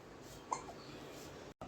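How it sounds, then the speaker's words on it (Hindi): A one-month-old baby gives a single soft hiccup in a quiet indoor room, faint and brief against low background hiss. "सब कहते हैं अच्छा होता है हिचकी होना"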